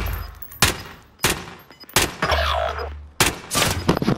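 Gunfire in the video game Call of Duty: Modern Warfare: four sharp, loud shots spaced roughly every half second to second, close by, with faint voice chatter between them.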